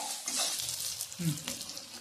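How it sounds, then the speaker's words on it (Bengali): Onions sizzle and fry in a pan with salt until browned while a utensil stirs and scrapes, close up and steady. "এইভাবে কিন্তু আমি পেঁয়াজটাকে ভেজে নিয়েছি লাল লাল করে"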